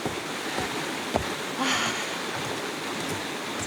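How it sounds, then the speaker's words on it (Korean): A mountain stream on Yongmunsan in Yangpyeong flows steadily through dense autumn forest beside a hiking trail, a continuous broadband rush of water at close range with no voices. "경쾌한 물소리와 함께하고"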